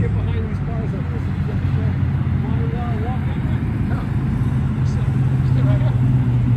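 Cars passing at the Syracuse, NY car show, a loud steady low engine drone with swelling motor noise as vehicles roll by close, while people chatter throughout.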